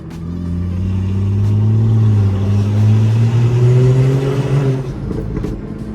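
A BMW X3 M40i with a side-skirt-exit exhaust revs up loud and steady, its rising drone sustained for several seconds before easing off near the end.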